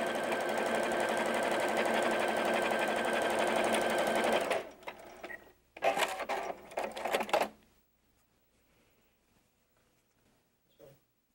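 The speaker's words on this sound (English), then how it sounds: "I'm just letting the machine take the fabrics through and sew my straight seam" A sewing machine stitches a straight seam through quilting fabric, its steady rapid motor hum running loud and close for about four seconds, then a couple of shorter bursts before it stops.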